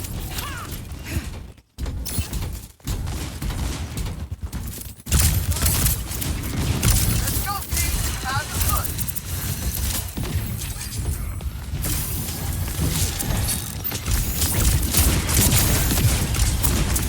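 Gunfire in a competitive Overwatch match, rapid bursts of shots and clanking impacts layered over dense game effects and music, loud and continuous with brief dropouts near the start.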